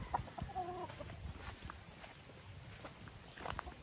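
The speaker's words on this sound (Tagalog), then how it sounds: "Oh, kuwapo kini yung mga manok." Roosters and chickens from fighting-cock stock at a derby in Talisay cluck and crow in short bursts amid a busy outdoor background of scattered noise.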